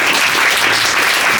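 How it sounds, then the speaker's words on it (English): Applause for the guests at the close of a live storytelling event at RefuFest, a dense, steady wash of clapping from an audience, loud and continuous throughout. "So again, applause for our guests."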